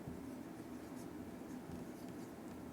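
Pen scratching steadily across paper while an accounting heading on partners' combined profit and loss appropriation is written out, a continuous soft close-up scraping with no talk.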